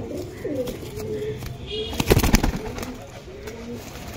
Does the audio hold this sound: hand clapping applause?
no